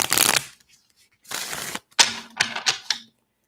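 A deck of tarot cards shuffled by hand in three quick, close bursts of riffling and flicking with short pauses between them, and a faint voice in the background.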